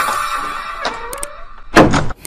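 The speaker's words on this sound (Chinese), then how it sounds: "我出门一趟，你给我好好照顾小鸭，知道吗？" A door is closed by someone heading out, a brief creak and rattle followed by a loud thud near the end, with nobody talking.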